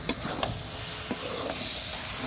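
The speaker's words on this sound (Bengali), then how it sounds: "দেখো চিকেন কষানো চলছে এখন" Chicken sautés in a pan on a rooftop picnic, giving a continuous close hiss of frying with a few sharp metallic knocks from stirring near the start and a softer scrape later.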